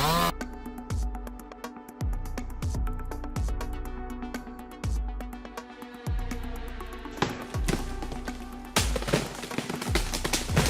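A strangely shaped tree cracking and breaking apart as it collapses while being felled with a chainsaw, a series of sharp gunshot-like snaps followed by crashing, loud and close.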